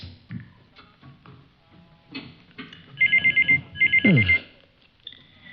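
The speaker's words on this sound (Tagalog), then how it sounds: "Telepono." A private-line telephone rings in a dramatic scene: two loud electronic trilling bursts, close and clear, between quieter background sounds.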